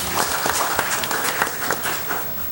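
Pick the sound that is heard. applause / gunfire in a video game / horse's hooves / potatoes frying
applause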